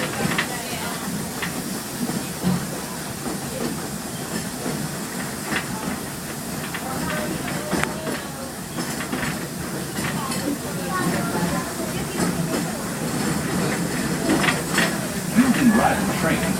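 Walt Disney World Railroad steam train running in Fantasyland, a steady rolling rumble with hissing steam and scattered metallic clicks of wheels on rail, continuous at moderate volume with faint voices in the background.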